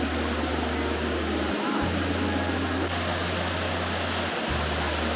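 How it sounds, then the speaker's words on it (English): Steady broadband rush of a waterfall heard from a short distance on a steep jungle hike in Central America, continuous and even with a low hum underneath, no voices. "But I'm making it to this waterfall"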